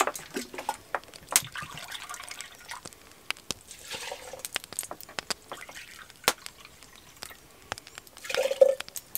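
Water poured over oats in a pot for Viking Age food preservation, a quiet trickling and dripping with scattered small splashes and clicks across several seconds, ending in a slightly louder pour, no talk.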